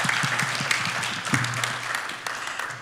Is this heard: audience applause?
yes